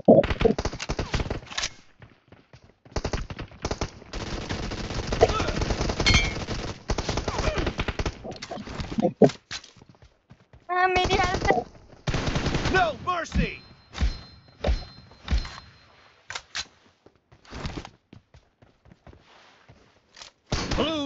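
An M416 rifle fired in single-shot mode in a team shooter video game, with loud, close shots coming in rapid runs separated by brief pauses and other gameplay sounds mixed in.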